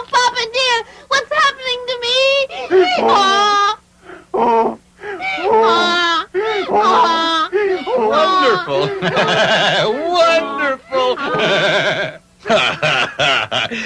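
Donkey braying in a 1978 Pinocchio film, loud, wavering and bleat-like, comes in repeated bursts close up; the brays sound like human voices imitating donkeys, mixed with cries and talk.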